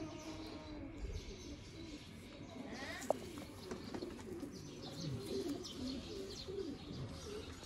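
A flock of pigeons kept in a loft set up for sale, several birds cooing in overlapping low throaty calls near and steady, with occasional chirps mixed in and faint voices in the background.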